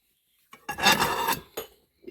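Ceramic plates clatter and scrape as they are stacked and put away in a home kitchen cupboard, a short cluster of knocks and rubbing after a quiet start, then a couple of lighter clinks, close by.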